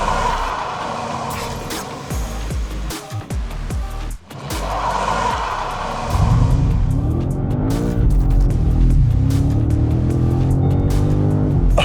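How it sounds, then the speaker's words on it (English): A 727-horsepower BMW M5 super saloon accelerates hard with power sent only to the rear wheels, tires scrabbling and squealing before the engine note climbs loud and close through short-shifted gears. "So now we have 727 horsepower going through the rear wheels only, and I have to modulate that."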